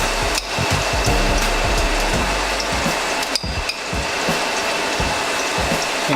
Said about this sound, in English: Gonna drop in the shrimp.